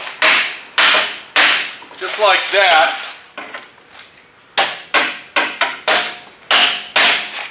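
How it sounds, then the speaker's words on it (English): A hammer strikes a caved-in steel body panel on a junkyard car to stretch and straighten it, loud sharp metallic blows in irregular bursts with brief talk between them. "we're going to hammer that to stretch it back out"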